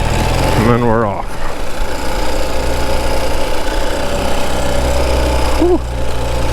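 A Ural Gear Up 2WD adventure sidecar motorcycle engine pulling away in first gear, a loud, close, throbbing low engine rumble that holds steady, with brief voiced sounds at the start and near the end.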